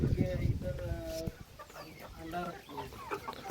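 Hens clucking inside a hen house, several birds close by with overlapping throaty clucks and short calls, while a person talks in Hindi alongside.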